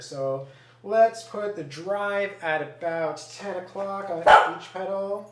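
A dog barks once, sharp and close, during steady indoor talk from a man.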